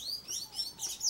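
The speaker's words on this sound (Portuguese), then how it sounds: "Conhecido como sem-aço cinzento, né, pelos especialistas em aves." Sayaca tanager (grey tanager) calling at a feeder: a series of high, thin chirps and tweets repeating quickly over about a second, fairly close and clear with no talk.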